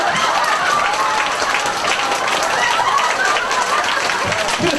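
An audience at a cancer seminar claps in a steady, continuous burst, with dense overlapping hand claps filling the room and a few voices faintly mixed in.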